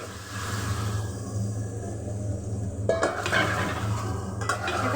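Taro pieces drop into spiced masala in a pan for a hilsa fish curry, giving a brief clatter and scrape of utensil against pan over a low, steady background hum.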